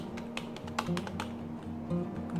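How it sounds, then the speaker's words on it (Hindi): A Logitech MK235 wireless keyboard is typed on up close, with quick uneven key clicks and taps over a steady low electrical hum. "मैं यहाँ पे कीबोर्ड से भी आपको कुछ भी लिख"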